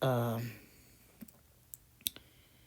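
A voice opens briefly, then a few faint, sparse mouse clicks follow in quiet while playing the Kingdom Notes game.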